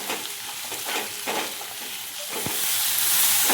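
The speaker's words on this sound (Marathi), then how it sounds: "आल्याचे तुकडे, लसूण, काजू हे सर्व भाजून घ्यायचे आहे चांगलं मंद आचेवर" Ginger pieces, garlic and cashews roast in a pan over low heat, giving a steady close sizzle with repeated soft scraping strokes as they are stirred, the frying hiss growing brighter toward the end.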